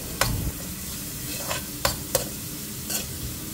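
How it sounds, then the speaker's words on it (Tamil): Chopped garlic and onion fry in a little oil, giving a quiet steady sizzle broken by several sharp stirring scrapes against the pan. "ஆயில் கொஞ்சம் போட்டு பூண்டு வந்து சின்னதாக அரிஞ்சு அதை வறுத்துட்டு அதுக்கு பிறகு வெங்காயமும் அதையும் போட்டு வறுத்துக்கணும்"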